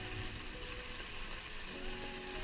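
Keema aloo matar with potatoes and peas frying in a pan, a soft, continuous sizzle and crackle, quiet and steady throughout.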